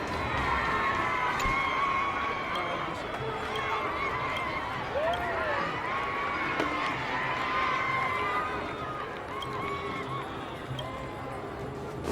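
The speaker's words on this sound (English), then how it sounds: "Look, there's a crowd gathering over there." A crowd gathers and cheers in a Honkai Star Rail scene, a steady murmur of many voices with scattered shouts and calls, moderately loud and continuous throughout.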